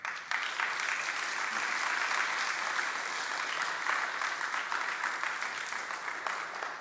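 An audience at a blockchain science conference talk breaks into dense, sustained applause, a steady wash of many hands clapping at even loudness throughout, with no speech over it.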